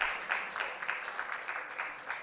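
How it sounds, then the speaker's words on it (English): Modest audience clapping at a general congress opening ceremony, a scattered patter of hands with soft rhythmic peaks, fairly faint and distant in a large hall, with no one speaking over it. "I thought you'd clap for that"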